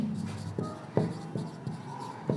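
Chalk tapping and scraping on a classroom board during an English grammar lesson, a series of short strokes in an uneven rhythm, close and fairly loud with no talking.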